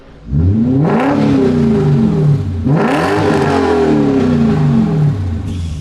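A BMW M3 Touring with an Orla exhaust and muffler delete revs hard twice, each loud rising engine sweep falling back to a steady rumbling idle close by.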